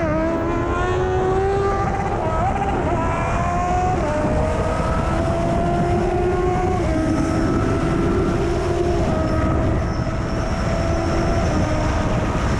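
Superbike on a highway ride accelerating hard toward 200 km/h, engine note climbing through repeated rising sweeps between gear changes under heavy, constant wind roar.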